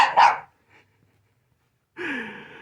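A puppy gives a short sharp bark, followed by a silent pause and then a longer whiny, breathy yelp close to the microphone.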